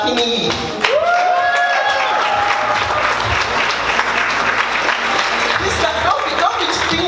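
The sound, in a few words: audience applause at a launch event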